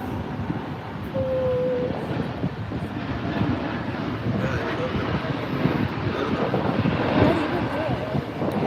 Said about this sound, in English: now there's a United Airlines departing